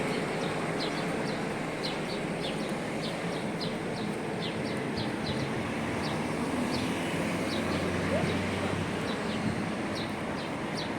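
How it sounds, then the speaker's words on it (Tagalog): Birds sing outdoors near Mount Zion in Jerusalem, with repeated short high chirps spaced through the whole stretch, fairly faint beneath a constant wash of wind and ambient noise. "Ang sarap pakinggan ng mga huni ng ibon."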